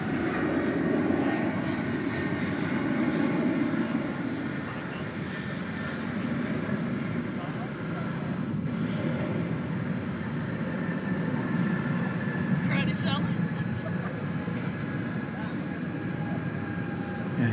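A British Airways airliner taxis off a short taxiway at DFW Airport at night, its engines holding a steady, moderately distant roar that swells and eases slightly throughout.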